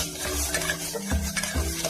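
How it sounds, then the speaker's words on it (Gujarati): Chole masala spices are stirred in a pan, with soft scraping strokes and a light sizzle, a few quick stirring motions heard close up with no voices. "અડધી ચમચી જેટલો છોલે મસાલો, બધો મસાલો નાખી દીધો છે. હવે તેને આપણે મિક્સ કરી લઈશું."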